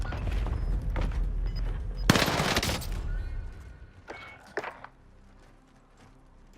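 Gunfire in Call of Duty: Warzone on the Caldera map: a dense burst of rapid shots hits hard in the middle, then scattered single cracks follow, some fainter and farther off, over low game ambience.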